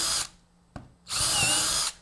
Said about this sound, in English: you just drill all the way down until the drill bottoms out